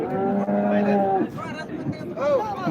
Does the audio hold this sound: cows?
yes